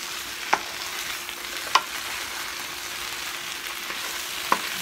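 Potatoes sizzle in a hot pan, a soft steady frying hiss with a few light clinks of a utensil stirring and no talk.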